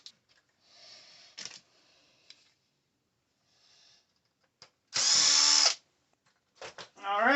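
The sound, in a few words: power drill undoing Traxxas RC car axle shafts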